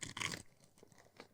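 Loud crunchy bites into crispy toasted mochi served in sweet red bean soup, a sharp burst of crunching followed by softer, quieter chewing close to the mic.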